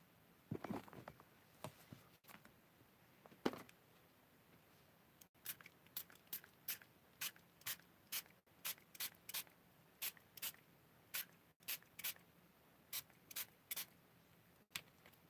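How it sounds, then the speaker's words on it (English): A spray bottle gives short, crisp misting bursts onto pigment sprinkles, first irregular and then in a fairly steady rhythm of quick squirts, close and quiet in a still room. "this does give a much finer mist than my garden spray"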